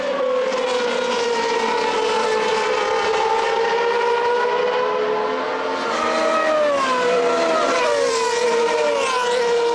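Formula 3000 race cars at a 2003 race in Italy scream past on the track, several high-revving engines overlapping loud and close, pitches sliding up and down as they accelerate toward the first turn.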